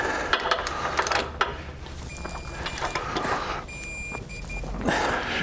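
Bolts on a rear anti-sway bar install on a 2015 Ford F-53 are torqued down with a wrench, giving close mechanical ratcheting clicks and metallic ticks over a low hum.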